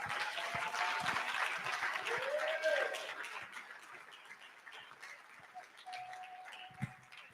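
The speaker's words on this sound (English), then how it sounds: "Let's keep clapping." Applause at a medical fellowship induction ceremony in Ghana, a crowd clapping in a fairly dense wash that gradually thins and fades, with a few louder individual claps and some faint voices and tonal noises underneath.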